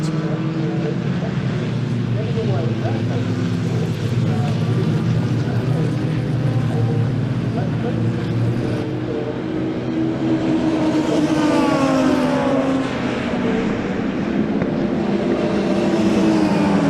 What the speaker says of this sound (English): Worth just taking a pause to listen to these stunning engines.